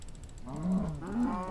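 A cow in the video game Minecraft gives two short low moos, close together, over a faint background of game sounds. No one speaks.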